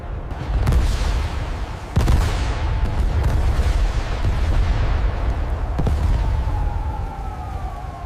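Dramatized missile launches and explosions roar on, heavy and loud, with sharp blasts near the start and a whistling tone rising late, under a constant low rumble.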